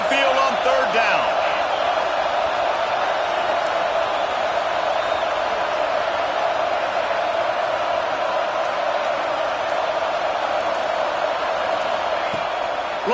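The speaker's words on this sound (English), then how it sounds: "Here comes this home crowd as the defense tries to get off the field on 3rd down." A home football crowd roars steadily through a third-down play, a dense, sustained wall of cheering and noise that stays loud from start to finish with no break.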